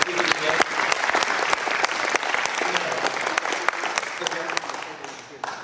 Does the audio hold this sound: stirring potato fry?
no